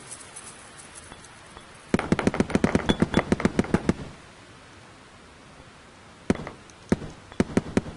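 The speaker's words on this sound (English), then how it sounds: "I shoot out the rest of them." Rapid bursts of video game gunfire from Night Sky, a dense volley of sharp shots for two seconds, then a pause and a few more separate cracks near the end, close and loud with no talk.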